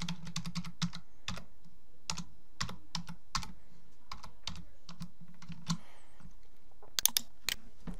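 Fingers type on a computer keyboard in a quick, steady stream of close, crisp key clicks, with a few short pauses and a louder tap or two near the end.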